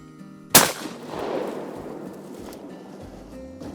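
A single loud, close shotgun blast during a Minnesota duck opener hunt, a sharp crack with a long rolling decay that fades into outdoor quiet.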